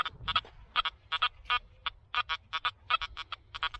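A metal detector on a beach gives a jumpy, warbling signal over a bottle cap: rapid, irregular electronic chirps in quick clusters, clear and close against a quiet background.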